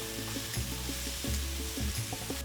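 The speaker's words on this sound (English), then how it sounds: "add 2 finely chopped green chilies and mix well" Onion, tomato and green chilies fry in a pan while being stirred, a close steady sizzle broken by several thumping utensil strokes, with no one talking.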